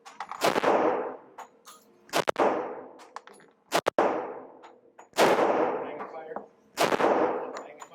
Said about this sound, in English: 6 more shots at 20 yards.